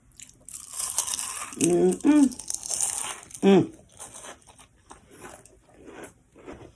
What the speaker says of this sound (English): if y'all can't get with that crunch